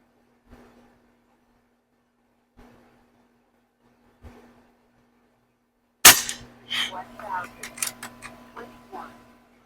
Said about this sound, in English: we'll get some shooting done here and see what we can do